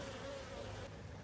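Honey bees buzz around the hive, a steady faint droning hum with a wavering tone, continuous and with no voices.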